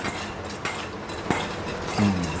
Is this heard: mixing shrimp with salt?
yes